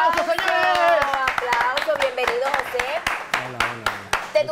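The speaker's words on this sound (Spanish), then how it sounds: "¡Vamos a dar un fuerte aplauso, señores!" Lively rhythmic clapping from a studio audience on a Mexican TV show welcoming a guest, sharp distinct claps under a loud excited host voice and background music.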